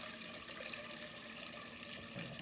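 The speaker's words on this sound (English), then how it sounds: "Sparging with the wort." Hot water sparging the wort while brewing an American stout, a steady, soft, continuous pour and trickle of liquid with no voices.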